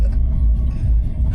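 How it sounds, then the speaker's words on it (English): Tesla Cybertruck driving itself in self-driving mode, a steady low road rumble and engine-free drive hum filling the cabin continuously throughout, with no talking. "I'm actually really glad that the truck's driving itself"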